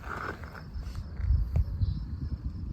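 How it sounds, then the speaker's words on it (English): Insects at an outdoor campsite in Uluru-Kata Tjuta National Park, a steady faint buzz and chirping with soft rustling and footstep-like thumps underneath, no talk. "Us and the bugs. So many bugs."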